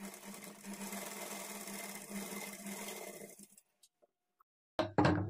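A sewing machine stitches a blouse in one steady, close whirring run that stops abruptly, followed by silence and a short final burst.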